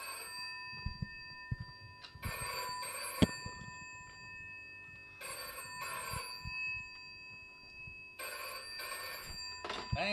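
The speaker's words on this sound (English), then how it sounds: "That's a special kind of phone." A telephone bell rings in three bursts of bright, sustained metallic trills separated by short pauses, loud and close, in a room at The Boileroom venue.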